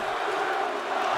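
A WWE 2K22 wrestling video game crowd roars in a steady, dense wash of cheering and shouting, loud and continuous with no clear pauses.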